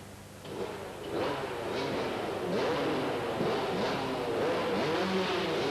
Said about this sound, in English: Gentlemen, let's start those engines.